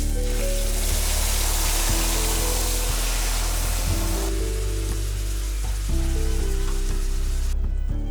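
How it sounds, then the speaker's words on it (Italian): Garlic and tomato sauce fry in olive oil in a pan, giving a continuous close sizzle under steady background music, with no speech. "Appena l'aglio inizierà a friggere, aggiungiamo la salsa di pomodoro."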